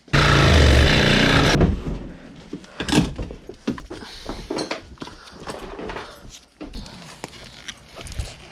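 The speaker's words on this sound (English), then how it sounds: "So, Sawzall." A Sawzall reciprocating saw cutting a rusted seat mount on a budget GTI buzzes loudly and harshly for about a second and a half, then gives way to clanks, scrapes and knocking metal sounds.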